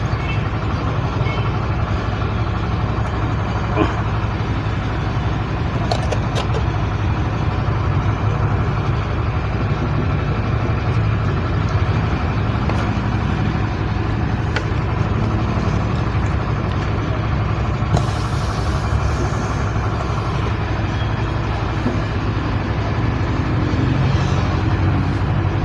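A sewing machine stitches the lining of a suit's double vent with a steady, close, continuous motor hum and rapid needle drone that runs unbroken throughout.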